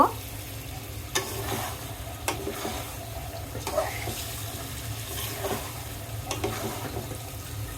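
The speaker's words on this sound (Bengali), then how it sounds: "এই তো মশলা কষান কমপ্লিট এখন আমি মাংসগুলো দিয়ে দিব" Desi village chicken pieces frying in cooked-down spice masala, a close, continuous sizzle broken by sharp scraping stirs roughly every second or so, with no voices.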